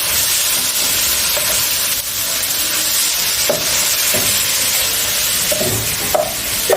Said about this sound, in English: Oh, do you hear the sizzle?